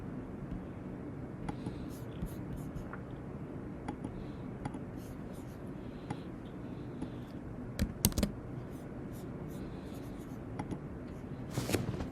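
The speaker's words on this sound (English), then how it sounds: "Type the password you gave" Typing a password on a computer keyboard while installing PostgreSQL on macOS: soft, sparse key taps in irregular bursts over a steady background hum, a louder cluster of clicks near the end, with no one speaking.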